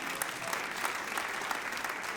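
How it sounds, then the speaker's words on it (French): Applause from a church congregation during a sermon, a continuous wash of many hands clapping at a fairly even, moderate level. "si vous applaudissez, applaudissez pour de vrai, s'il vous plaît"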